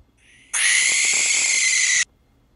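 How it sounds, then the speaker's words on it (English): A single sustained owl hoot, loud and close, holding steady for about a second and a half before stopping abruptly. "Owl."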